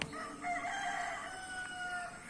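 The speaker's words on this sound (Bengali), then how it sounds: "দেখ মুরুক ডাকতেছে মুরুক ডাকতেছে" A rooster on a farm crows once in a drawn-out call that is fairly close and clear, with faint background noise and no speech over it.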